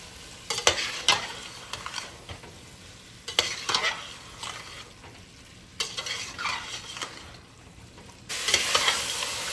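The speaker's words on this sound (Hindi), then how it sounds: "अभी मैंने चिकन डाल दिया, चिकन अच्छे से भून लेंगे मसाले में।" Chicken pieces are stirred and fried in masala for a restaurant-style butter chicken, with bursts of scraping and stirring over a steady close sizzle and no talking.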